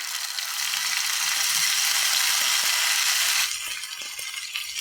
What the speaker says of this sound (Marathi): आणि हे दोन मिनिटे तुपावरती आपल्याला परतून घ्यायची आहे